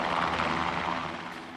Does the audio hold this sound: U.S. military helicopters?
yes